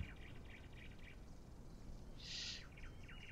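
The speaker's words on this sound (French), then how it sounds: "je préfère le bruit des oiseaux." Faint ambient birdsong from the video game Microsoft Flight Simulator 2020 plays, with soft repeated chirps and one brief brighter call over a low steady background hum.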